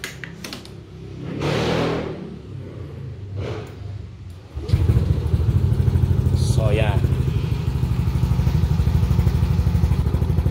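A Yamaha Aerox or NMAX scooter engine with an aftermarket 35mm elbow power pipe starts cold and settles into a loud, steady idle with a throaty, deep exhaust note, after a short spoken remark and some clattering.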